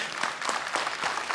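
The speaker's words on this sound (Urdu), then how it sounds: "ان لوگوں کے لیے بہت ساری تالیاں۔" A studio audience at the Ehed e Ramzan iftar transmission applauds the crew, a brief, moderately loud wash of many hands clapping.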